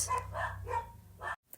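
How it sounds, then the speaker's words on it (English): Several dogs bark in short, repeated bursts in the background of a room, moderately loud, with a low steady hum underneath, then stopping abruptly. "you can hear my dogs in the background too."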